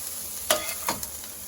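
Onions fry softly in a pan for a weeknight pasta, a low steady sizzle broken by a few brief scrapes of a utensil stirring, quiet and close.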